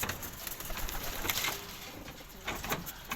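Racing pigeons coo softly in a loft, a few low, rolling calls under faint background noise and light fluttering.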